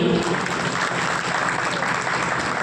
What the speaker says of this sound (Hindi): और आप लोग जोरदार तालियां बजाइए।